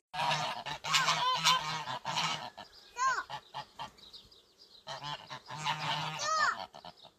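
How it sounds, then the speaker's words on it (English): Geese honk loudly in noisy bursts, several birds calling over each other, with quieter squawks in the pauses. "He sent me the funniest video with Daisy and the geese"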